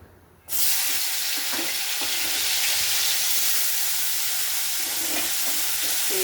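Sliced jackfruit seeds frying in hot oil: a loud, steady sizzle that bursts in suddenly after a moment of quiet and continues evenly, with a few faint pops and stirring clicks.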